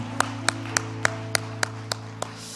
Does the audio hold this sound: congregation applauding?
yes